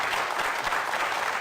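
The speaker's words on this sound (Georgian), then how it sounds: "აპლოდისმენტები" Studio audience applause on a Georgian comedy game show after a contestant wins 50 lari, a dense, steady burst of clapping that fills the whole moment.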